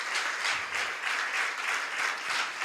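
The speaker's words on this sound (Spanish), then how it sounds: "Denle otro aplauso al Señor, hermano." A church congregation claps steadily, a dense, even applause filling the room from start to finish with no pause.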